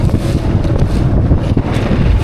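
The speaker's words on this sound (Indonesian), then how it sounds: "Kencang sekali anginnya teman-teman." Strong wind roars and buffets the microphone outdoors while ultralight casting from a boat, a loud continuous rushing noise with no voices.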